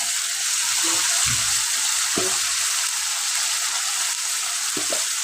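Spice paste frying in a pan for a sarpunti fish curry, with salt just added: a steady, close, hissing sizzle that runs throughout, with a few soft clinks of stirring.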